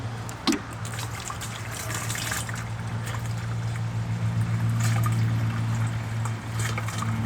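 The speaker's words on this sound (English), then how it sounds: "I'm just going to add about a gallon of water" About a gallon of water pours steadily into a container for blossom end rot treatment with an antacid tablet, a continuous close rushing flow with a low hum beneath and one brief knock near the start.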